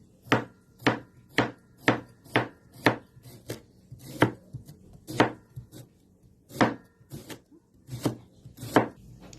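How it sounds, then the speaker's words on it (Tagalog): Knife blade chops through layers of banana heart (puso ng saging) on a board in a steady series of about seventeen sharp, close thuds, with no voices. "At akin na tong hihiwain."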